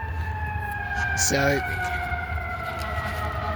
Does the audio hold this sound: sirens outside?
yes